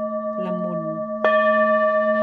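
A 9-inch full moon gong is struck near the mic, giving a bright metallic hit that rings into a long, steady shimmering hum, with a softer murmur of sound just before the strike.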